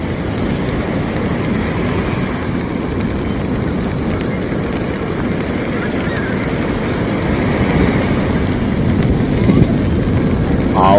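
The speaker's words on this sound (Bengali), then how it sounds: "আওয়াজ কি ঢেউ পড়ার!" Rough sea at Puri in rainy weather, waves crashing on the shore as a continuous loud, low roar that swells slightly toward the end.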